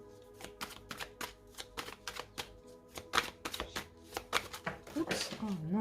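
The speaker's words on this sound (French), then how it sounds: "je vais remettre une carte dessus" Tarot cards handled and laid down one by one, a quick series of crisp slaps and flicks at uneven intervals, close and fairly quiet, with someone speaking over them near the end.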